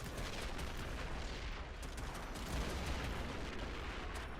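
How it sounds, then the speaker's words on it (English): A First World War French artillery barrage in a video game pounds defensive trench lines, a continuous roar of distant blasts and rumbling impacts with scattered sharper cracks. "There's even more French artillery bombing our lines now, if you can tell."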